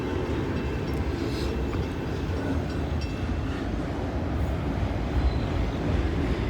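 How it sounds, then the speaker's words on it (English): A grain freight train rolls past as a steady, loud broadband rumble, continuous throughout with no letup. "Looks like we got a grain train coming."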